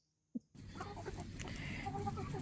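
American Bresse chickens cluck and murmur steadily in a chicken yard, a busy flock heard close and continuous after a brief sharp knock at the start.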